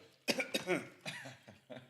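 Poolside, a person gives several short, sharp coughs close by. The bursts come in quick pairs with brief pauses between them, and no talking accompanies them.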